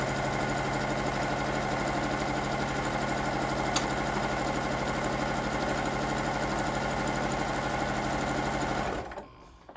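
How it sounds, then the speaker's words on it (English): Sewing machine with a walking foot stitching fabric placemats, a fast, steady motor whir with a busy mechanical chatter running continuously at close range, then cutting off abruptly near the end. "I am using my walking foot and going a little bit too fast"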